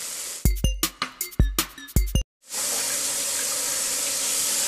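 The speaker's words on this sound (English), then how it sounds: "you rinse the soap off" Hands are rinsed of soap under a running tap: a few close clinks and knocks at a sink, a moment of silence, then a steady, full rush of water that continues to the end.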